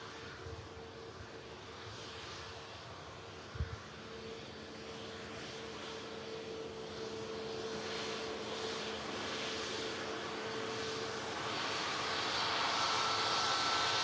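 A Ryanair Boeing 737 arriving from Cologne at Manchester Airport, its engine roar swelling steadily from a distant rumble to a louder, closer wash of noise with no voices.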